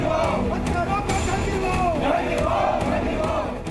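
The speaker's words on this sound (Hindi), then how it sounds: "लखनऊ की सड़कों पर देर रात निकली ये भीड़ इंसाफ मांग रही है।" A large crowd marches through Lucknow streets late at night in a candle march demanding justice after a murder, a dense continuous roar of shouting and chanting voices, loud and close throughout.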